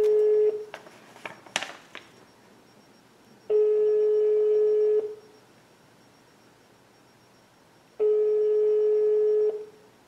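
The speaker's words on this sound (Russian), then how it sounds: "Хотя вот телефон звонит." An outgoing call on a home telephone line sounds two long ringing tones a few seconds apart, clear and steady, after some brief clicks and dialing noises.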